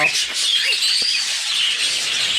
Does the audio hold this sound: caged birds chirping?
yes